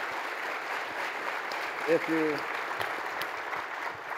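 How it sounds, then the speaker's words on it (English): A round of applause from a conference audience after a panel presentation, fairly soft and distant under a steady room hiss, with a brief spoken word in the middle. "yes, big round of applause."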